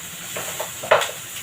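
Pig trotter pieces with ginger fry in sesame oil in a pan, giving a low sizzle with a few small pops and one sharper crackle near the end of the short stretch.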